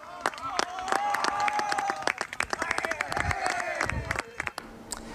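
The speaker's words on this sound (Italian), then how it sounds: "Al 90° gli applausi di tutti sono per i giocatori del Treville" Crowd applause and cheering for the Treville football players at the 90th minute of a match, a steady mix of claps, shouts and crowd noise running throughout.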